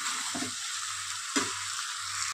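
Tarka dal being stirred in a hot pan, with continuous sizzling frying and two distinct scraping stir strokes, close and loud, with no talking.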